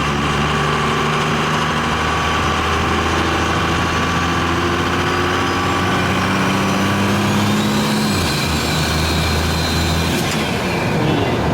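A twin-turbo Cummins diesel truck engine runs loud and close, a continuous heavy rumble and drone with slowly shifting pitch throughout, and no voices.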